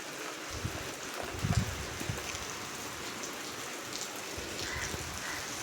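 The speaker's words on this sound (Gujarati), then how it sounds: "જો વરસાદ શરૂ થઈ જશે ધીમો ધીમો" Rain falls with a soft, continuous patter, punctuated by a few dull low thumps nearby.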